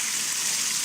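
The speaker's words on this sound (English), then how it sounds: "you gonna rinse it off with this hose pipe?" Water from a hose pipe rinsing off sewage, a steady close hiss of spray for under a second with no pause.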